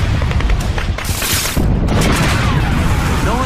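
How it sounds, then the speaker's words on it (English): Mortar blasts and gunfire in wartime, with heavy booms and dense crackling shots layered over each other, loud and continuous, with a sudden surge of impacts midway. "Suddenly mortars and gunfire are flying in from everywhere."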